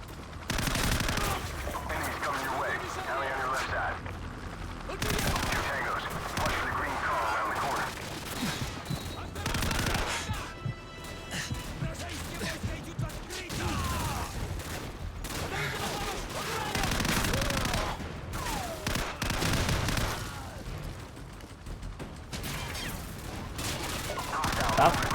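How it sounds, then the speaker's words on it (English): Heavy, sustained gunfire from a Call of Duty 4 campaign battle, dense automatic bursts and blasts rolling almost continuously with brief lulls, loud and close throughout, with faint voices underneath. "We are taking heavy fire"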